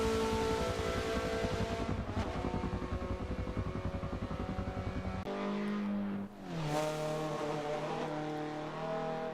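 A Mazda track-focused two-seater races around Suzuka in a video game, its engine droning loudly with rising revs and rapid shifts, then a sharp drop and a fresh climb in pitch.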